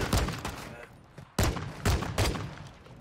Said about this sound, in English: That guy is on fire shooting at me.